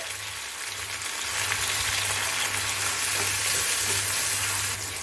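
Onion and chopped tomato fry in a pan for besan sabji, giving a dense, steady crackling sizzle that swells slightly midway and holds close and constant.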